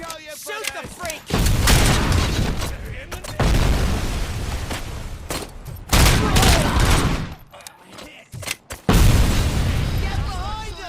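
Gunfire in RoboCop: Rogue City rattles in loud sustained bursts with heavy booms, coming in several waves separated by short lulls, while voices shout over the combat.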